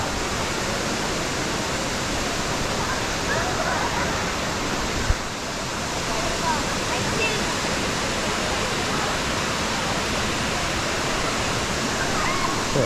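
Mantayupan Falls in Cebu roaring nearby, a loud, steady broadband rush of falling water that fills the whole stretch with no break.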